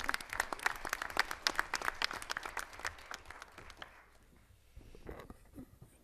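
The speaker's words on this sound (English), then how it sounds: "extend that applause for a minute to Brian Holst" An audience at an economic summit breaks into sustained applause for Brian Holst, many hands clapping loudly at first, then thinning out and fading to scattered claps before a few faint sounds at the end.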